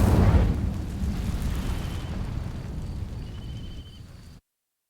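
An Incendio fire spell cast in Hogwarts Legacy: a sudden loud whooshing burst of flame that rumbles and decays over about four seconds before cutting to silence.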